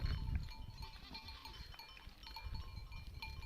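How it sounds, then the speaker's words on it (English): Sheep and goats out in the mountains, faint bleats and calls scattered over soft outdoor ambience, fairly quiet and distant with no voices. "We will watch sheep, goats, lambs, trees, mountains, and a beautiful lake."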